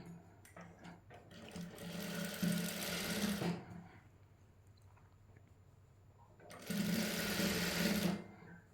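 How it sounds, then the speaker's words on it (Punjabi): A sewing machine stitches fabric for a garment hem design in two bursts of steady whirring rattle. A quieter pause with faint clicks falls between the bursts, and there is no talk. "ਇਸ ਤਰ੍ਹਾਂ ਨਾਲ ਨਾਲ ਸਲਾਈ ਲਾਈ ਜਾਣੀ ਹੈ ਹੌਲੀ ਹੌਲੀ"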